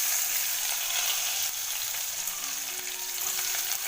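Chopped onion frying in a pan of hot oil with asafoetida, green chilli and curry leaves, a steady close, loud broadband sizzle holding evenly throughout with no talk.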